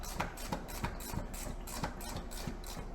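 A GearWrench ratcheting wrench works on bolts in the engine bay of a Pontiac Vibe with a 1ZZ engine, giving a steady run of quick, evenly spaced clicks close by.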